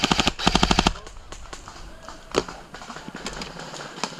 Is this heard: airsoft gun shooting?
yes